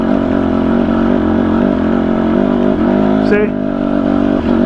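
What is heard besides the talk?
Husqvarna TE250i dirt bike engine crawling up steep hill, second gear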